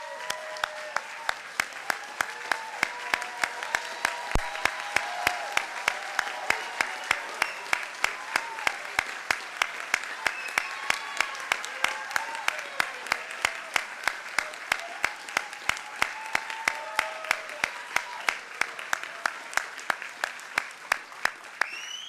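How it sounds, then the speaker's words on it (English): A sustained round of audience applause at a 2019 FCPS retirement ceremony honoring retirees, steady dense clapping from a large crowd with sharp individual claps standing out, continuing evenly throughout. "give these retirees our deep round of applause and appreciation"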